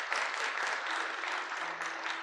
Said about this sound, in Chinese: 我们再一次的拍手欢迎他们啊！